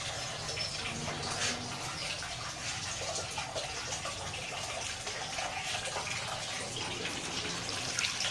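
Cooling water for an herbal distillation runs steadily in a continuous gushing stream, like a tap filling a basin, with no voices.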